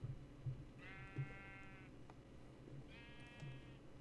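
Sheep in the Minecraft video game bleat twice, each call a drawn-out wavering baa about a second long, separated by a pause, with faint soft thuds underneath.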